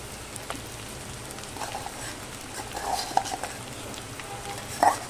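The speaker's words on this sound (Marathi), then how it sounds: "आता साबुदाणा घालून घेते याच्यामध्ये" Sabudana is stirred into potato in a pan for fasting khichdi, a soft, steady patter and gentle scraping with a few brief clinks of the spoon near the end.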